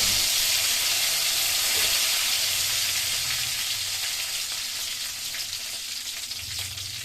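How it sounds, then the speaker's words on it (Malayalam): Mustard seeds and curry leaves sizzle and crackle in hot oil, a steady close hiss that eases slightly toward the end. "കടുക് പൊട്ടിയതിന് ശേഷം കറിവേപ്പില കഴുകി ഇട്ട് കൊടുക്കാം"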